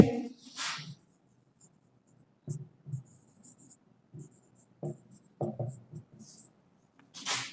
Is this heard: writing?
yes